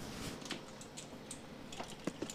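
Rapid, close keystrokes clatter from a modded Razer keyboard, desoldered and fitted with Cherry switches, typed in quick uneven bursts with no talk.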